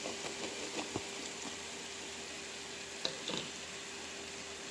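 Soft steady sizzle of vegetables and flour cooking into a roux in a pan, a quiet continuous frying hiss with a few faint clinks and taps of stirring.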